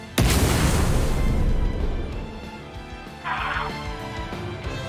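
A special-attack explosion in the video game One Piece Odyssey bursts suddenly and loudly near the start, then rumbles away over a couple of seconds. A second, softer impact follows later, tailing off.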